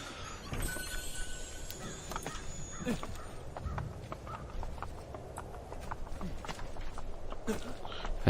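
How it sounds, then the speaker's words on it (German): Horse hooves clip-clop steadily in Assassin's Creed 2 gameplay, a rhythmic run of fairly quiet clops over a busy ambient game background with faint bird calls. "Das Pferd, das verfolgt uns einfach."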